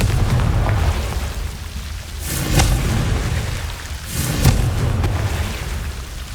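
Two booming blasts from the Confringo spell in Hogwarts Legacy, each a sharp burst fading into rumble, set over a steady low ambient drone with no talk.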